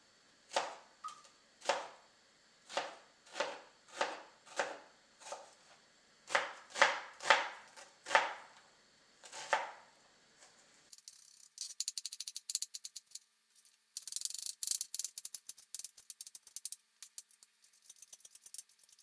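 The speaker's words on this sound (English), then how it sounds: "All of this I'm going to cut into a nice small dice." Knife chopping celery, onion and bacon on a cutting board: a steady run of about a dozen crisp, evenly spaced chops, then a faster, lighter burst of rapid dicing strokes, close and clear.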